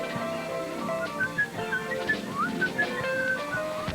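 A person whistles "Yankee Doodle", a lively tune of clear, shifting notes rising and falling, alone and moderately near.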